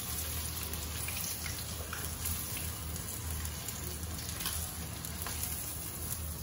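Sand whiting fish fillets frying in oil: a steady, even sizzle with fine crackling pops, close up and continuous, with no talking over it.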